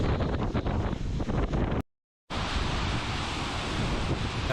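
Heavy water pours down hard in a waterfall, a dense roar close to the microphone with wind buffeting; the rush cuts out briefly midway, then resumes just as loud.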